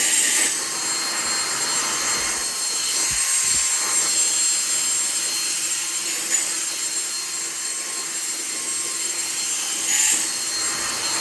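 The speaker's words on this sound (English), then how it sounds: "now I'll just get the vacuum" A vacuum removes loose clipped hair from a patient before surgery, running steadily throughout, a continuous roaring whoosh with a high whine on top and occasional brief shifts as it passes over a surface.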